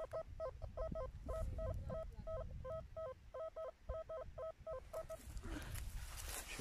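A metal detector emits repeating electronic beeping tones in quick pairs and bursts in a field, steady and fairly close, over a low rumbling background, fading into rustling noise at the end.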